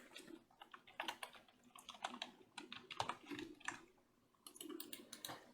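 A computer keyboard clicks with quick bursts of typing as SQL is entered, faint and close, pausing briefly before another run of keystrokes.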